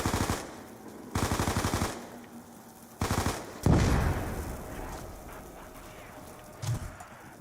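Video game combat: several loud bursts of rapid automatic gunfire, broken by a deep grenade blast that rumbles and fades, then quieter scattered shots.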